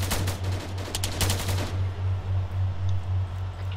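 Sustained rapid automatic gunfire in a military video game, a dense close burst of repeated shots followed by a steady pulsing rumble, with no talking.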